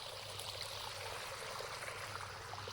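Water runs along a farm channel toward a house in a village field, a soft continuous trickling and gurgling stream, low and fairly faint, with a steady low hum beneath and no talking.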